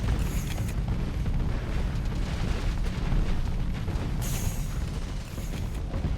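Torpedo explosions in the space combat game Starsector form a loud, continuous rumbling roar of blasts and crackling debris, with two brighter hissing bursts rising near the start and end.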